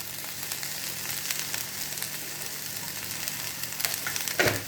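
Chopped okra sautés in hot oil in a home kitchen, giving a continuous close sizzle with a few faint scrapes and no talking.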